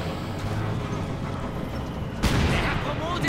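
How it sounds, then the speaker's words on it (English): Mortar rounds fire and land in Company of Heroes 2, with rumbling battlefield booms and a sharper blast midway, heard beneath a voice talking. "Mortar rounds going in"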